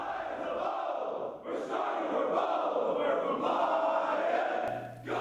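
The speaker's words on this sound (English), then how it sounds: "That was the sound of Lindenwood rugby players remembering their fellow teammate." Lindenwood rugby players chant together in unison at an evening memorial in a chapel, a loud, massed group of voices rising and falling in rhythmic shouts that carry steadily throughout.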